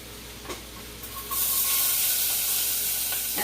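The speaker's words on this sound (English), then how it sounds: "listen to how those vegetables just steam" Vegetables hit hot bacon grease in a skillet for black-eyed peas and break into a steady, close hiss of sizzling and steam that swells after a couple of soft knocks; no talking.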